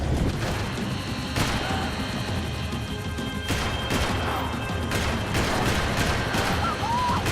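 Video game Max Payne 3 combat with dense gunfire, repeated loud shots and crashing impacts piling over one another in a constant din, with faint talk underneath.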